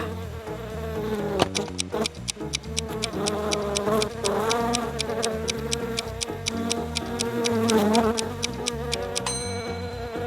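A steady, close insect buzz like bees droning continuously, with a rapid regular ticking running beneath it for the whole stretch.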